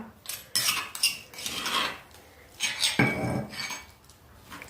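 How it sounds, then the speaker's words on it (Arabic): A metal spoon scrapes and clinks inside a cooking pot while spice paste is stirred, giving a steady run of close clattering and scraping with no talk. "نجيب طنجره نقلب فيها، ندير فيها الدرسه"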